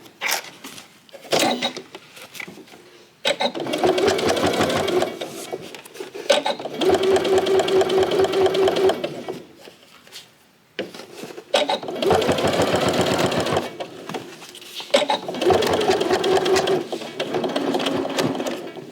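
Sewing machine stitching a pouch bag seam in several bursts: loud, close whirring runs of a few seconds each, broken by short pauses and quiet handling between them.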